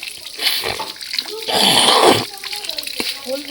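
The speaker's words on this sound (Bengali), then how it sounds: "কলে গিয়ে পেয়ারাটা ধুই" Tap water gushes and splashes as a guava is rinsed under an outdoor tap, a loud burst in the middle with softer trickling around it, while a voice talks nearby.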